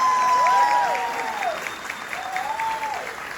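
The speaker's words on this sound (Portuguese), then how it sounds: "Vamos dar uma salva de palmas?" Applause from a seminar audience at an early childhood event in Itaquaquecetuba, a steady broadband wash of clapping lasting the whole stretch, with a faint tonal whistle or feedback line gliding above it.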